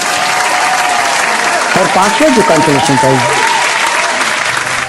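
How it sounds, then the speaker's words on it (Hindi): Steady audience applause fills a hall at the results announcement of an Indian music talent competition, continuing under an announcer's voice naming a consolation prize. "आप लोगों से अनुरोध है कि आप बिल्कुल तालियों से इनका अभिनंदन करें"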